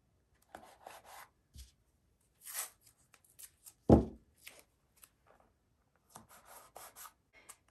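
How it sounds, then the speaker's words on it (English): Tape pressed down by hand to fix a sheet of paper in place gives short rubbing and scraping strokes in scattered bursts, close and fairly quiet, with one louder thump in the middle. "I'm just going to eyeball the center of it, and then I'm just going to tape it in place"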